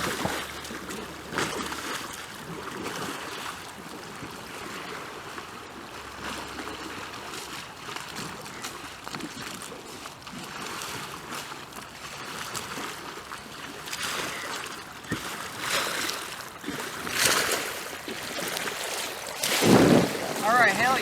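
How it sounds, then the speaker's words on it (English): Paddle strokes splash and churn water around an R1 raft, a steady run of wet swishes and trickles with a louder splashing burst near the end; no voices. "I'm going to paddle this one back and forth and see if I do drive forward and lean forward"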